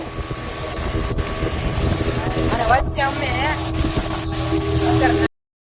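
A motorboat engine drones steadily beneath wind and water noise on a river, with people talking and calling out over it throughout.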